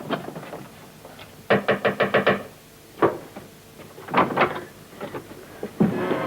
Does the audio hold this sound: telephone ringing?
no